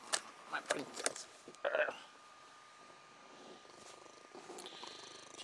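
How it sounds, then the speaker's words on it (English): A pet cat purring softly nearby, a low steady rumble under a faint tone, with short bursts of speech and handling noise early on. "She's just a purr bucket."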